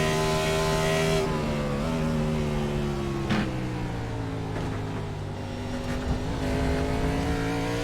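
A heavy Cup race car in the iRacing sim racing game holds a steady, droning engine note, with the pitch dipping and shifting as it moves through gears and corners at Watkins Glen.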